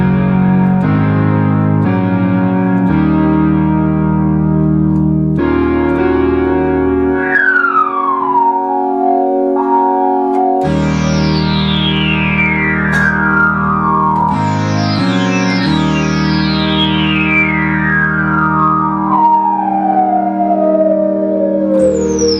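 An Akai AX-60 synthesizer is played through its resonant voltage-controlled filter, producing loud sustained tones with sweeping, whistling resonant filter glides that swoop downward repeatedly over a continuous drone.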